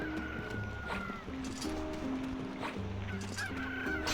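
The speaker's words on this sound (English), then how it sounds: "it's like the same Zelda chicken sound." Clucking chicken calls from the NieR video game, several honking, fowl-like squawks repeating over a busy layered game soundtrack with tonal music underneath.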